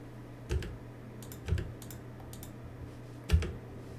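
Keys pressed on a computer keyboard in a school computer lab: three distinct clicky keystrokes spaced out over a few seconds, plus soft lighter taps, over a low steady room hum.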